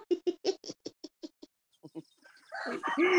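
A rooster and hens in the countryside give a quick run of about a dozen sharp, rhythmic clucks up close, then a pause before louder squawking and a drawn-out crow-like call at the end.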